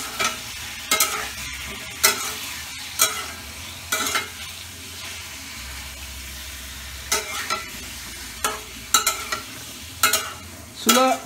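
Potol (pointed gourd) and egg stirred with turmeric in a frying pan over medium heat: a steady sizzle under repeated scraping strokes of a spatula, close and fairly loud, with no talk.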